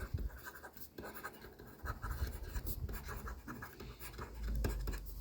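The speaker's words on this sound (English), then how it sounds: "Let's write it down." Pen scratching across paper while notes on unrealized profit are jotted down for an accounting exam question, a soft irregular scraping that runs for about five seconds with small taps and pauses, close and quiet.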